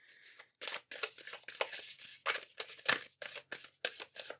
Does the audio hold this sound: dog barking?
no